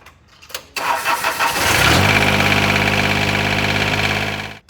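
A John Deere 455 lawn tractor engine cranks for a moment, then catches and settles into a steady, loud idle close by, with no talking.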